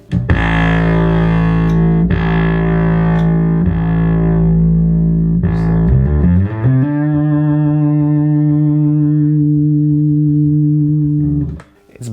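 Loud, heavily distorted electric guitar chords ring out through an Acoustic 450 amplifier, struck a few times and sustained, then a long held chord before cutting off.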